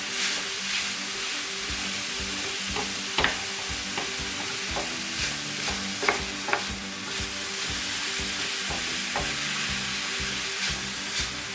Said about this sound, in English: Break it up with your wooden spoon.